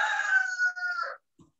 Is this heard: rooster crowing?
yes